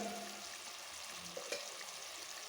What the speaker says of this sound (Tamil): பாருங்கள், நல்லா கொதித்து வெந்துக்கிட்டு இருக்குது சூப்பு.